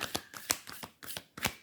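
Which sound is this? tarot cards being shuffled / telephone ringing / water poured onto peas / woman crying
tarot cards being shuffled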